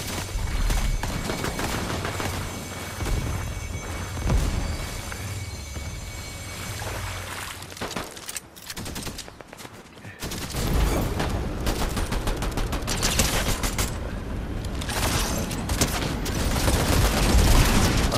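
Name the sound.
gunfire in a shooter video game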